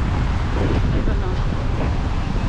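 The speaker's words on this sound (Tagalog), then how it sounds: "Lakas ng hangin ngayon ah" Strong wind gusts buffet the microphone outdoors at a waterfront park in Qatar, a steady loud roar with a person speaking faintly beneath it.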